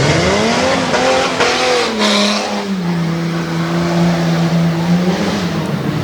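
Tuff truck racing on a dirt course at a championship event in Harrisburg, PA: a loud, close engine revs and drones steadily, pitch rising and falling as the truck accelerates and brakes, with brief tire scrabble and no talk.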